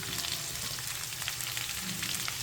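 Onion and garlic frying in a pan for a South Indian chicken dish: a steady, dense crackling sizzle with small pops, close and fairly loud, alone without talk.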